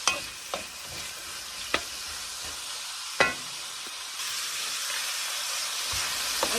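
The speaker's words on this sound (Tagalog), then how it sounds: "Putsain natin yung vegetables with onion, garlic, red pepper, and carrot." Onion, garlic, red pepper and carrot sauté in a pan with a continuous hissing sizzle that grows slightly louder partway through. A few crisp utensil knocks punctuate it, and no voice is heard.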